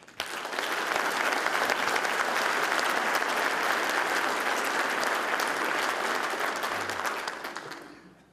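A crowd at the 2011 State of the City address in Aurora, Colorado claps steadily for several seconds, a dense, even burst of applause that fades out at the end.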